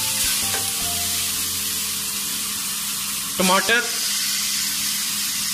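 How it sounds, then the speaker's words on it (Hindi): Garlic-ginger paste, chopped tomatoes and green chillies sizzle steadily in a hot pan, a continuous broad frying hiss with a brief stir partway through, while someone speaks briefly over it. "अब इनको फ्राई करूंगा"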